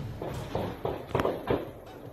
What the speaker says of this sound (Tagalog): Umalingaw-ngaw ang sunod-sunod na putok ng baril sa Barangay Tampadong sa bayan ng Pamplona, Camarines Sur noong Biyernes, Mayo 3.